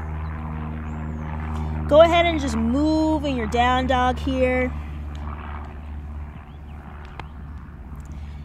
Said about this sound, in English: I don't know if you guys hear that plane overhead, but I do. It's really loud.